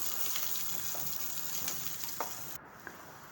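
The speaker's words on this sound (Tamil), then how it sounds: "கடாயில் எண்ணெய் ஊற்றி கடுகு, கடலைப்பருப்பு, வெங்காயம், வரமிளகாய், கருவேப்பிலை இது எல்லாத்தையும் போட்டு நல்லா வதக்கிக்கோங்க" Mustard seeds, chana dal, onion, dried chilli and curry leaves sautéed in oil in a kadai, giving a steady close sizzle with occasional stirring scrapes and a brief drop near the end.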